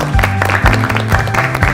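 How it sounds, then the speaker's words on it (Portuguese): An audience at a school talk on cheese factories and career choices gives a brief round of applause, clapping over a low humming background. "Salve de palmas"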